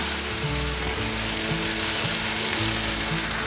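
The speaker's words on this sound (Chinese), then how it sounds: "快速的拌炒， 大约拌炒20秒左右就可以了。" King oyster mushrooms and celery are stir-fried in a wok, a loud continuous sizzle with stirring scrapes, close up and without any voices.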